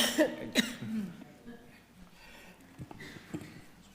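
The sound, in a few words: cough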